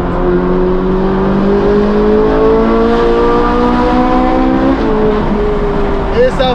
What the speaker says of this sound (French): Et ça fait un son de Formule 1, frérot.